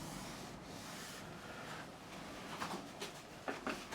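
Hand sanding of wood with 120 grit sandpaper while shaping a neck, a soft, steady close rubbing with a few louder strokes near the end.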